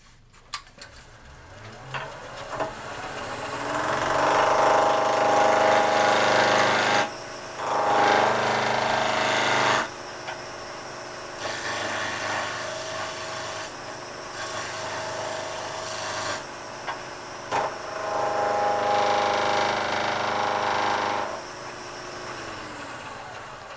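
Wood lathe running steadily while a scraper cuts a pommel on a spindle, a sustained whirring, cutting drone broken by several brief pauses, close and loud with no talk.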